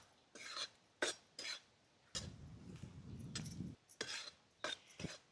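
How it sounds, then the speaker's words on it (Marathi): Stir-frying Rajgira bhaji in a pan, a spoon scraping and clinking against the metal in irregular strokes over a soft sizzle, close and fairly quiet, with no talk. "आता हे चांगलं परतून घ्यायचं"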